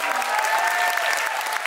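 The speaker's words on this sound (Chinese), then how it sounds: "大家给阿良，我的这个恩师" An audience at a live concert breaks into dense, continuous applause that stays even and fairly close for a moment, with no voices standing out.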